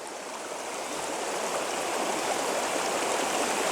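Broad, steady rush of a stream flowing over stepping stones at the Nant Mill waterfall in North Wales, recorded close and low to the water, constant and fairly loud with no voices.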